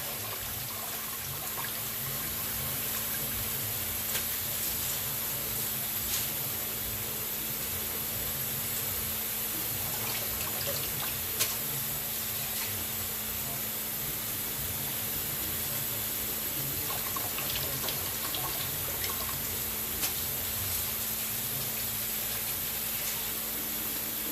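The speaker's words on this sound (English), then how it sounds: "as we just move this around and wash the salt off of it, just take it, pick it up, drain it, shake it, put it in the new water" Salted cabbage is swished and lifted in a sink full of water to rinse off the salt, giving a steady, close watery sloshing and trickling that runs unbroken throughout with no talking.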